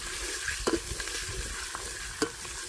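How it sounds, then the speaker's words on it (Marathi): Spice paste for mutton curry frying in hot oil in a second pot, a steady close sizzle broken by a few sharp clinks of a stirring spoon against the pan. "वाटण चांगलं तेलामध्ये परतून घ्यायचं आहे"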